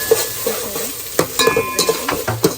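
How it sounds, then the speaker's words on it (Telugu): Ginger garlic paste stirred into frying onions in a pan, giving a steady close sizzle broken by several scraping stirs of a utensil, with no talking. "నేను అల్లం వెల్లుల్లి పేస్ట్ వేసుకుంటున్నా సరిపడినాక"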